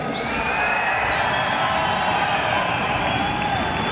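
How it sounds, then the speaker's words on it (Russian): Boxing match audience in Saint Petersburg applauding and cheering in a continuous, loud roar of clapping and crowd noise, with whistles and shouts rising above it. "Ваши аплодисменты!"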